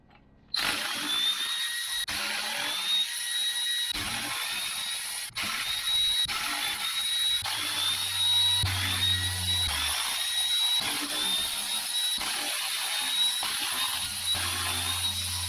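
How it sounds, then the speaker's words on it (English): A power tool whirs as bolts are removed from the stock differential cover on a Jeep JL Rubicon, a steady high-pitched motor whine broken by short clicks and pauses, close and continuous with a brief lower buzz midway. "next, we need to start taking off all these bolts to get the stock gear cover off"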